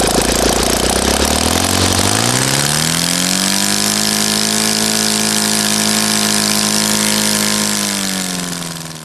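A Magnum FT-160 twin-cylinder glow model engine, running with a patch on it, roars loudly and steadily at high speed after a quick rise in revs, holding an even pitch throughout before easing slightly at the end.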